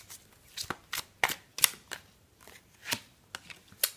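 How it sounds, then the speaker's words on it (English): Tarot cards are shuffled by hand in short, irregular bursts of dry papery riffling and soft taps, close and quiet with no talking. "Shuffle a little bit more on camera and see what cards come out for you"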